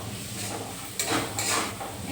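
Spiced masala for chicken chow mein, with a pinch of amchur (dry mango) powder, is stirred and scraped in a pan, making a steady sizzling hiss with two louder scraping surges near the end.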